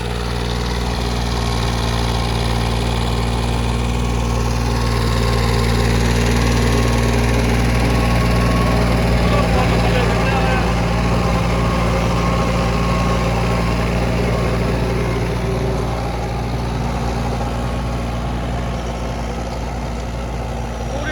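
A Holland 5500 three-speed tractor drives a PDC super seeder in the field, its diesel engine droning steadily and loudly up close with a continuous low rumble and vibration, no talk.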